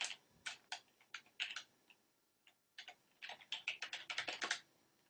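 Faint computer-keyboard typing in irregular clusters of light clicks as a web address is entered, with a brief pause midway before a faster final run, near and quiet with no voices.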